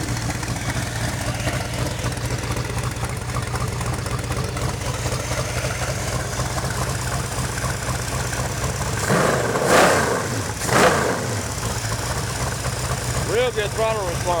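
A car engine fitted with Inglese fuel injection runs steadily at idle, its timing roughly set with the distributor near ten degrees, then blips and revs twice near the end before settling again.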